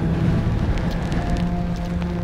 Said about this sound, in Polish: Szkoda, że tak pada